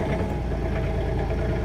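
John Deere 3039R compact tractor diesel engine after a cold start at 14 degrees, idling steadily with a loud, continuous low rumble and clatter throughout, no talking.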